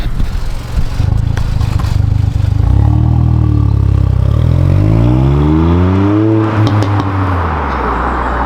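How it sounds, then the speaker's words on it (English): 2022 Ford Puma ST with a cat-back exhaust revving hard, loud rising engine tone climbing through the gears with crackling pops on the upshift. "Oh, those pops! That pops on an upshift."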